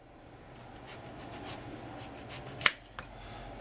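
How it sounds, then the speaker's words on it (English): A knife slicing summer squash into thin quarter-inch wheels on a board, a run of quiet rhythmic cuts ending in a sharp tap on the board and one smaller knock just after. "I would take a nice thin slice, about 1/4 inch, just like the zucchini, like this, into nice wheels."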